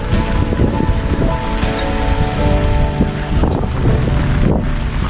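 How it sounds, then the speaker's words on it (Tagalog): Strong typhoon wind gusts hard against an outdoor campsite in a Category 5 storm, a loud, continuous roar of rushing air buffeting close by. "Dito yung west side, so dito yung sampal ng hangin."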